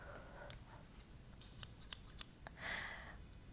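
Scissors snip a few times, sharp little metallic clicks spaced unevenly, close and quiet with nothing else around.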